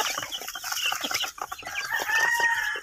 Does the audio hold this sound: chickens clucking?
yes